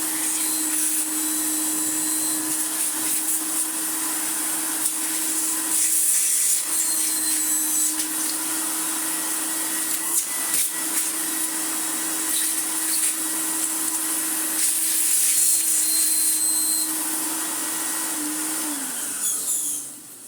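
An Electrolux Dolphin 1000 Z2222 twin-speed vacuum cleaner, awaiting refurbishment, runs steadily close by with a constant droning whine and a rough rushing airflow, cutting off at the very end.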